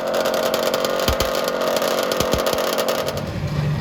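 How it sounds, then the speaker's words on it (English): A vintage two-stroke drag bike engine at a drag racing event drones steadily and loudly, high and raspy, its buzzing pitch wavering slightly with a few low thumps underneath. "Nothing quite sounds like a vintage two-stroke drag bike."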